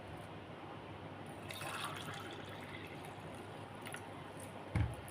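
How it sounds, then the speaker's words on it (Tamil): Rice-soaking water poured into a pot while making kozhukattai, a faint, steady liquid fill running for several seconds with a small knock near the end, no talking. "இப்போ இந்த ஊற வச்ச தண்ணியை எடுத்து ஒரு டம்பர் ஊற்றிக்கலாம்"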